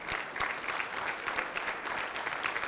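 An audience at a mayor's men's breakfast applauds steadily, a dense wash of many hands clapping at moderate distance, sustained and even throughout with no voices standing out.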